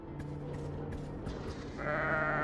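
A wild sheep on a beach in the Argonus video game gives a short bleat near the end, heard over a low steady ambient background with a few soft clicks.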